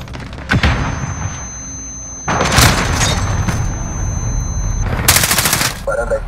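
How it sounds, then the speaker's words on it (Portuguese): Heavy blasts and booming gunfire in Call of Duty Modern Warfare as an allied cruise missile strikes, several loud bursts of explosive noise with a steady tone underneath. "Míssil cruzador aliado lançado."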